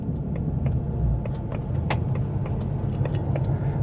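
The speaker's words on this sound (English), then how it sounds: "look at that old car just coming out." Old car rolling out of a Cars & Coffee show lot, a close low engine rumble with light clicks and rattles over it, steady throughout, no talking.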